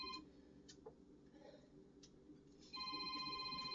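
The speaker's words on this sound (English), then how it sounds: "my phone is ringing" A telephone rings faintly in a kitchen while lasagna is being layered, its electronic tone pulsing twice at the start and then returning steady and louder near the end over low background noise, with a few soft clicks.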